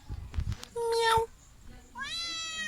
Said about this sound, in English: Would you like some shrimp, little kitty?